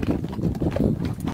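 Mule hooves clip-clop in a quick, even rhythm on a rocky Grand Canyon trail, close and clear for a brief moment with no voices.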